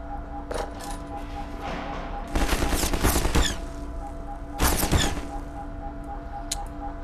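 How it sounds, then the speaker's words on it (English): In Half-Life 2, grenades go off as two loud, crackling bursts with faint pops and a steady low game hum between them. "Grenades."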